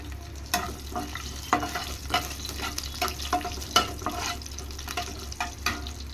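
Cumin seeds and two dried red chillies fry in oil for a Hyderabadi meethi dal, giving a soft, steady sizzle broken by repeated spatula scrapes and taps over a low background hum.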